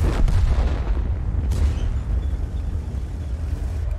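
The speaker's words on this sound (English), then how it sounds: "he's now got about five tanks firing at him simultaneously" Heavy tank cannon blasts boom in a WZ-111 model 5A tank battle game, several overlapping shots with a loud low rumble, one sharp report standing out amid continuous battle noise.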